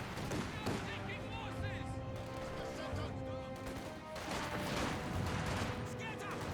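Dense in-game gunfire from Company of Heroes 2 rattles steadily throughout, mixed with bursts and impacts from a World War II battle with Soviet conscripts and German Panzergrenadiers, under a continuous battle din.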